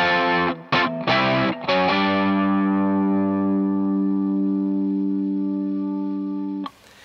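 An electric guitar with distortion and chorus effects plays a song's intro figure: a few choppy chord stabs, then one sustained chord ringing out for several seconds before being cut off.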